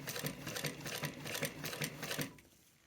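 A sewing machine stitches a tote bag seam in quick rhythmic bursts of needle clatter, close and fairly quiet, slowing and stopping at the end.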